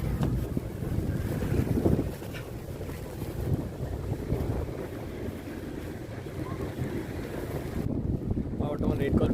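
A yacht heads out from a marina onto the Black Sea, with steady wind rushing and buffeting across the microphone over a low wash of water, continuous throughout.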